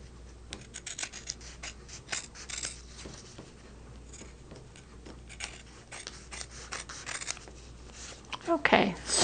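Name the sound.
utility scissors trimming fabric and paper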